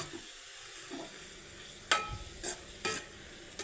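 Chopped onions pre-salted to soften quickly being sautéed in a pan for an egg curry, with soft stirring and faint sizzling, a few sharper scraping strokes near the end, no talk.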